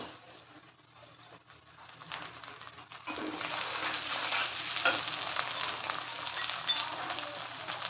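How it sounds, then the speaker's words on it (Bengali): Half a cup of shrimp frying in a pan with lightly browned onion, a quiet sizzle that swells suddenly into a louder, steady crackling fry with occasional stirring scrapes. "চিংড়ি মাছগুলো একটু ভেজে নিব।"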